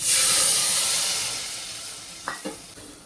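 Sharp, loud sizzle of asafoetida, curry leaves and chilies hitting hot oil, fading gradually into a softer hiss, with a couple of light clinks near the end.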